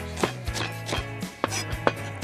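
A knife thinly slices red onion on a cutting board for a chili paste, giving five or six crisp, evenly spaced chops close up, with a faint steady hum behind them.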